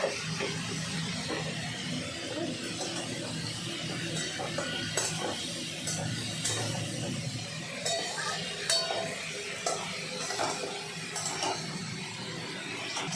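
Bitter gourd and pumpkin fry in a pan with a steady soft sizzle, stirred now and then with light clinks of a utensil against the pan.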